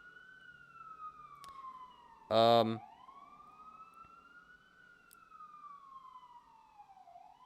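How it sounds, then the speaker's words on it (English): An ambulance siren passes at a distance, a steady wailing tone that slowly rises and falls across the whole stretch, with a short burst of speech partway through and a faint background hum. "Got our first ambulance today."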